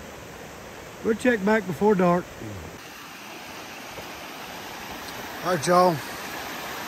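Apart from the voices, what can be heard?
small waterfall of floodwater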